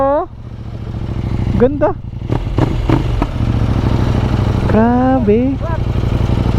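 A motorcycle with a KTM 790 engine, a light 800cc machine, runs close by with a steady low idle throughout. People talk and exclaim over the engine now and then.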